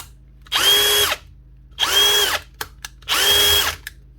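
A dropped, smashed-open Bosch drill that now runs in forward only, with a damaged gearbox, whirring close up in three separate bursts of about half a second each, separated by short pauses and small clicks.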